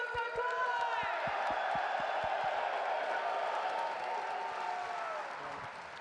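Esports crowd at a Call of Duty watch party in Birmingham cheering and applauding, a broad roar of clapping and whoops that swells and then slowly fades, with a rhythmic thumping beat underneath and an announcer's voice mixed in.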